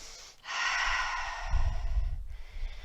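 During a deep seated yoga twist, a long, close exhale of breath rushes out, followed by a slower, rougher breath drawn through the nose, with no words spoken.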